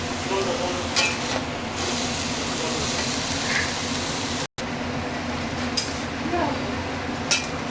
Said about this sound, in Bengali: এইভাবে মাঝে মাঝে নেড়ে দিতে হবে।